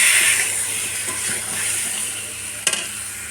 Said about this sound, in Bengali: সমস্ত মাছ দিয়ে দিলাম এবং হালকা হাতে একটু নেড়ে নেব